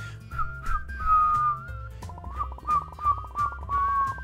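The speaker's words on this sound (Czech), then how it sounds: "Tady někdo píská." A person whistles a wavering melody in a chocolate-factory game, clear and fairly close over steady background music with low thumping tones, with no talk.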